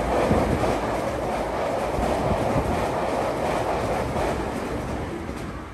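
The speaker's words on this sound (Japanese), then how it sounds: "ここで後続の特急電車の追い越し待ちをします。" Hankyu Kyoto Line limited express train rushing past a station at speed, a loud, steady roar of wheels and rail noise holding for several seconds before easing slightly at the end.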